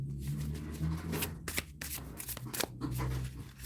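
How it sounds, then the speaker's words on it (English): A brand new deck of tarot cards being shuffled up close, with repeated riffling bursts and soft slaps of card stock, plus a low hum underneath. "And I'm going to shuffle this because this is a new deck."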